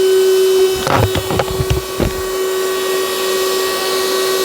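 A vacuum pump runs steadily while evacuating the AC system of a Maruti 800 car, a constant tonal whine and hum with a few knocks and rattles of handling near the start.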